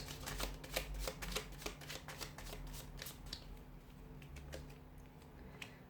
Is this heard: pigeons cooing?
no